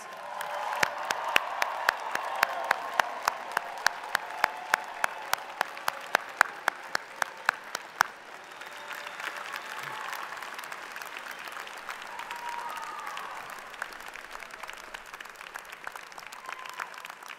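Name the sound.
audience applauding graduates at commencement ceremony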